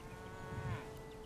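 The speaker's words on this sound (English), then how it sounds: "Milk or meat, my cattle will serve you well." A single faint, short cattle moo sounds on its own from a livestock merchant's herd in the medieval survival city-building game Bellwright.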